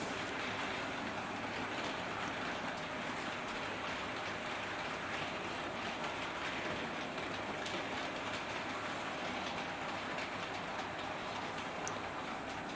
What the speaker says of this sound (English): we're running it nice and slowly going around. It really is a fantastic locomotive.